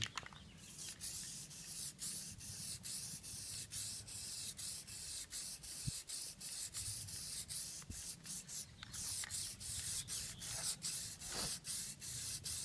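Dip coating is sprayed onto the body of a Mustang GT in a long, even hiss, broken by quick, regular pulses as the spray passes across the panels.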